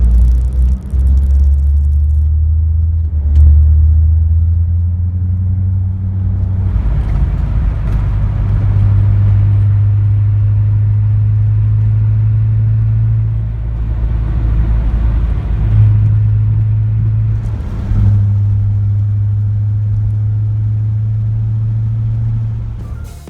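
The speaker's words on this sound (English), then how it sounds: "here's a few examples of drone that I was able to get with the Magnaflow mufflers installed" Deep, steady exhaust drone booms inside the cabin of a Corvette C4 fitted with Magnaflow mufflers, a loud low hum that holds for long stretches, dips briefly with gear or throttle changes, then returns.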